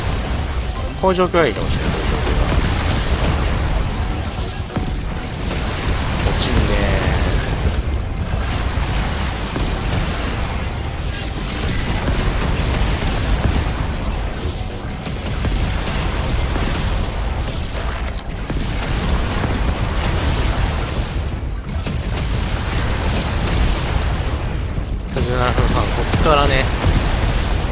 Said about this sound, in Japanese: いや空爆は強いね